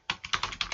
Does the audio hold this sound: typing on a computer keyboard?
yes